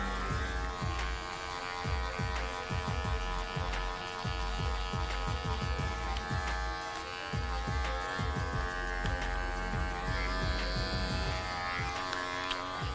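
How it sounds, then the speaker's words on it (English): An electric hair clipper runs steadily at close range, buzzing as it cuts a woman's faux hawk with repeated short strokes above the ear and down toward the neckline. "Now I'm going to turn my clipper upside down and cut with the grain."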